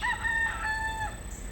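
A rooster crows among chickens in Hawaii, one sustained cock-a-doodle-doo call, fairly close and clear against a steady low background hum.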